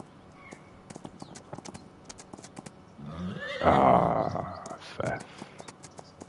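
Horses in the video game Farming Simulator 25 neigh loudly and clip-clop along, with a long whinny rising midway over a steady patter of hoofbeats, while someone talks briefly.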